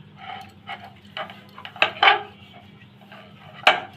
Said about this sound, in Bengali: এখন পিড়িতে দিয়ে বেলে নিব।